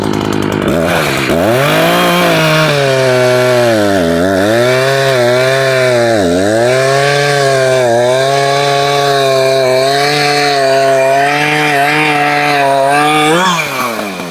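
Loud, close chainsaw with a freshly sharpened chain cutting through wood, revving up then holding a steady high whine that dips briefly as it bites in, before winding down at the end.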